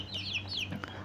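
Free-range village chickens cluck in short, close bursts, a few quick rising calls over a low steady background hum.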